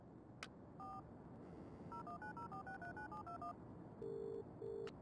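A phone number is dialed in the adventure game Broken Sword 3, a quick run of clear touch-tone beeps followed by two longer electronic tones, crisp and isolated over faint background hiss.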